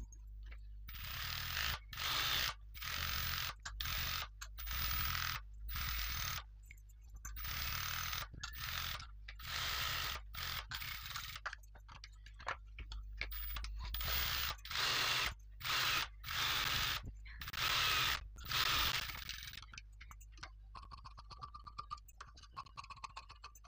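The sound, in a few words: sewing machine stitching a blouse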